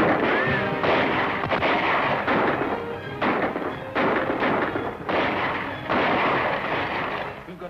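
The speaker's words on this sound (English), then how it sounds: "Just keep firing." Gunfire in a 1941 western film shootout: a rapid string of loud gunshots cracks in quick succession over several seconds, with each report followed by short echoing booms.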